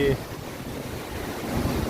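Waves wash steadily onto Phayun beach in Rayong, Thailand, with a continuous wind rumble against the microphone.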